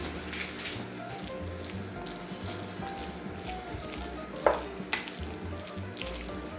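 Butter melts over drained noodles in a hot pan, giving a steady close sizzle and crackle with a couple of sharp utensil clinks near the end.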